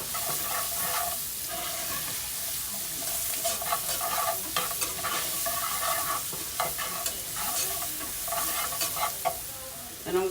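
Onions sautéing in oil for liver and onions with brown gravy: a loud, continuous sizzle and crackle, with frequent rhythmic stirring scrapes and utensil knocks against the pan, close up and with no talking.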